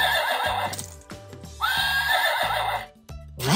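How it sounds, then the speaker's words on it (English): A toddler's animal sound puzzle plays a recorded horse neighing and whinnying loudly, with a few clip-clop hoofbeats mixed in, heard close and clear. "Horses like to go neigh, neigh."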